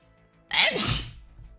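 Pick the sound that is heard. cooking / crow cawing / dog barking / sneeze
sneeze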